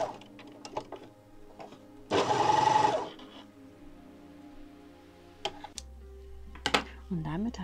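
An overlock sewing machine stitches an outside curve in fabric, running in one loud, close burst of under a second's length, followed by quieter handling clicks and someone speaking.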